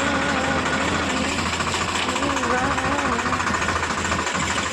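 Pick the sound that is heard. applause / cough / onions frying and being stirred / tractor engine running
tractor engine running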